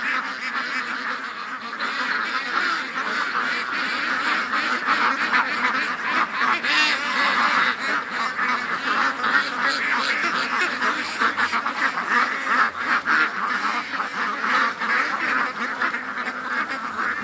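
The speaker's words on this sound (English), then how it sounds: "A bunch of poor ducks in the pen that are behind the wire." Ducks kept in a wire pen on a hot day quack continuously in a dense, overlapping chorus, loud and close, with honking calls mixed throughout.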